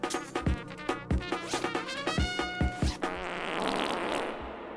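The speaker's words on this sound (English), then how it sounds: "Farted." A fart sound alert plays on a livestream, a quick run of sputtering, rhythmic bursts repeating several times and then trailing off into a longer, noisy rasp; fairly loud and close with no talk over it.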